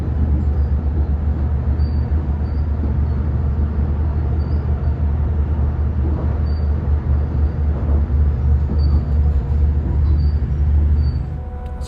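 Steady low rumble and rattle inside a moving NSW Trainlink Hunter railcar on the Hunter Line, continuous throughout with no talking.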